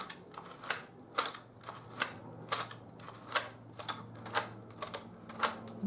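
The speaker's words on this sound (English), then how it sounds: "You will take your lever on the left and you will click it towards you to advance your punch card." The lever on a Knittax knitting machine clicks as it advances the punch card, giving a regular series of crisp mechanical clicks about twice a second over a faint steady hum.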